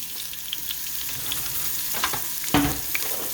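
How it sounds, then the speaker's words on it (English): Peppers and green onions sauté in a pan for ground lamb rice balls, giving a steady close sizzle with scattered crackles and one louder pop of stirring near the end. "We're going to let that saute up"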